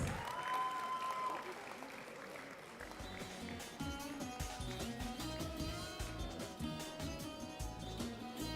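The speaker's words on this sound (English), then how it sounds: "Can we welcome her with a huge round of applause," Convocation ceremony audience applauds a gold medalist, steady broad clapping with music and voices layered over it throughout.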